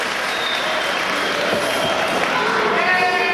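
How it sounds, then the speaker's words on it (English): Wrestling crowd at a Chicago match cheering and clapping for Acid Jazz, a steady dense roar of applause and voices filling the arena throughout. "Crowd getting behind Acid Jazz."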